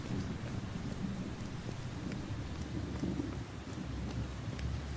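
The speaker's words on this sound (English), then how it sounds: "Look at this rain." Steady rain falling in the video game Beyond Two Souls, a constant soft hiss of moderate loudness running without a break.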